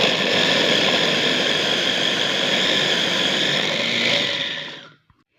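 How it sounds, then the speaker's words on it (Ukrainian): A blender chopping onion whirs loudly and steadily for about five seconds, a dense high-pitched motor roar, then cuts off abruptly into silence. "Цибульку я помістила в блендер і буду збивати."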